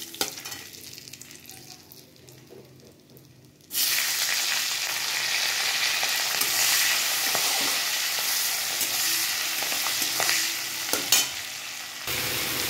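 After a few quiet seconds, a loud, steady sizzle erupts as bay leaf and whole garam masala spices hit hot oil and keep frying vigorously.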